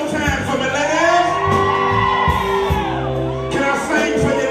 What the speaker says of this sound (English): All the ladies scream one more time for me, ladies.